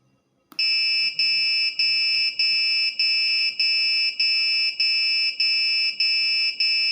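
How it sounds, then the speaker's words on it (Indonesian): An Arduino buzzer sounds while its push button is held down, giving a loud, piercing electronic tone that pulses in a fast, regular beeping rhythm, with no talk. "ketika dia ditekan terus menerus, buzzer akan menyala."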